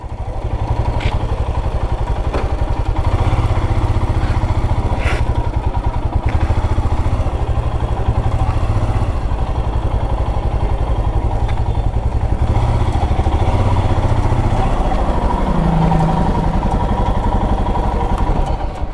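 A Royal Enfield Himalayan motorcycle is moved out of a service bay in Chennai, its engine running loud and close with a continuous low rumble, occasional clatter and thumps over the top, with no talking.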